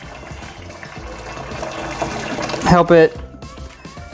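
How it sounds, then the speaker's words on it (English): Scalding hot water poured from a small kettle into a saltwater mixing setup, a steady liquid trickle and gush running beneath a man's brief speech, near and moderately loud. "Pour the hot water in"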